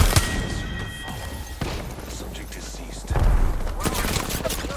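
Gunfire in Apex Legends: bursts of shots and impacts over a busy game mix, with a heavier volley near the end, while a player talks over it.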